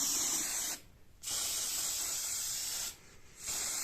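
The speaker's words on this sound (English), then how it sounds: "Just spray some." A spray can hisses onto a German WW2 Luftschutz Feuerpolizei M42 beaded steel helmet during restoration, in three steady bursts separated by two short pauses, close and fairly loud.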